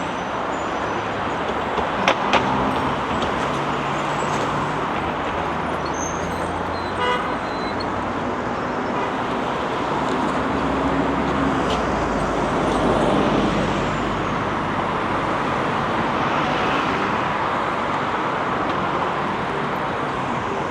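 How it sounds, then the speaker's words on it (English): Heavy morning rush-hour traffic flows along the Wuhan riverfront by the Yangtze, a dense continuous roar of cars and buses with scattered short horn toots, steady and loud for about twenty seconds. "A lot of the traffic now."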